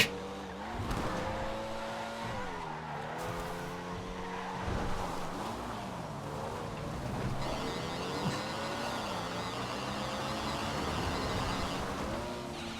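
A Shafter GTR car in GTA V is driven hard around a track, its engine note rising and falling through gear changes, with occasional tire squeal and no talking.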